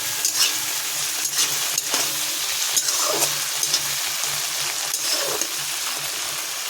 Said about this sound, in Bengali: আর চিংড়িটা বেশি ভাজবেন না, চিংড়িটা বেশি ভাজলে ভালো লাগে না